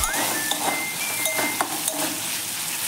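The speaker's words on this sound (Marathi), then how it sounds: "आपण त्यामध्ये थोडीशी हळद घालूया, साधारणतः अर्धा चमचा हळद आहे घालून घेतलेली आहे आणि व्यवस्थित आता मिक्स करून घेऊया।" A spoon stirs turmeric into sautéed tomatoes in a pan, giving a continuous soft sizzle with a few light scrapes and clinks of the utensil against the metal.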